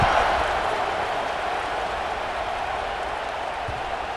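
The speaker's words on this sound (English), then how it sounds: "this crowd is buzzing after that last score" A stadium crowd in a college football video game, Mississippi State on the field, hums with a steady, broad roar after a touchdown, loud and continuous without distinct peaks.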